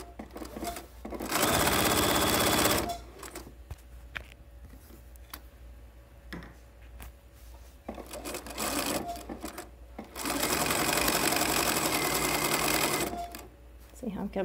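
A sewing machine stitches a pillowcase in two long, loud whirring runs separated by stops, with fabric being shifted. A person talks between and over the bursts.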